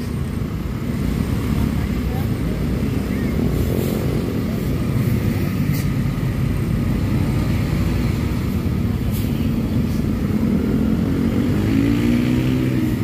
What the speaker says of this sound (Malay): Motornya itu, motor CB-nya nggak kuat.